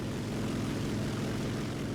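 A Fw 190 A-5 propeller fighter in War Thunder drones with a steady, loud, unbroken engine roar from the cockpit, with no voice over it.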